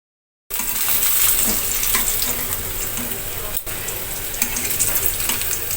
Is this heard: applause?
no